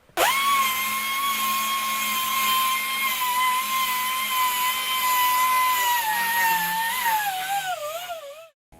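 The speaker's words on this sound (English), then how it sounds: "I'll use 320 grit abrasive on a random orbit sander to put the final finish on this" A random orbit sander with 320 grit abrasive works over a brass drum hoop, making a steady high whine with a bright tonal hum that wavers and dips near the end before the motor stops. No one speaks.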